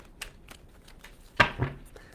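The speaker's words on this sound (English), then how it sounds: "Give me 2 shuffles for Capricorn." A tarot card deck is shuffled twice, giving two short, crisp riffling bursts close by, with quiet room noise before them and no talking.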